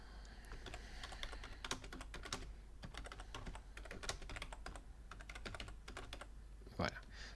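Fast, steady typing on a computer keyboard while entering a footnote in Microsoft Word, close and fairly quiet with continuous irregular key clicks and a brief voice near the end.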